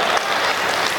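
A short, dense burst of clapping from a live audience at a Hindi comic poetry show in Meerut, steady and close throughout, with no voices over it.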